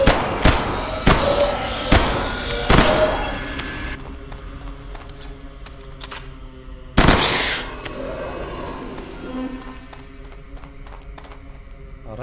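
Sharp bursts of gunfire in the video game Hidden Deep, a few quick shots early and one loud blast later, each followed by ringing decay and reverberant clatter.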